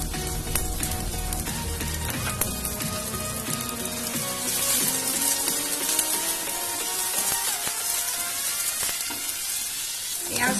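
A whole finely chopped onion frying in very hot white oil, with a strong, steady sizzle and crackle running the full length.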